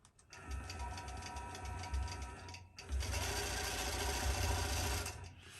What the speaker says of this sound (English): So I let it stitch a couple inches, and then I stop and I trim my my starting threads